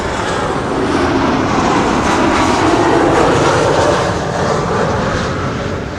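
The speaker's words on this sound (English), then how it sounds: "Air France up an Embraer 190 arriving from Lyon" An Air France Embraer 190 landing on Schiphol's Kaagbaan runway after arriving from Lyon, its jet engines producing a steady, loud broadband roar that holds for the whole stretch without talk.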